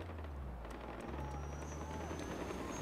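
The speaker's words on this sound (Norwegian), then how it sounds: "Her er det helikopter." Low rumbling rotor and engine drone of a helicopter flying in the video game Far Cry 4, heard steadily at a faint level with a few sharp crackles over it and no talking.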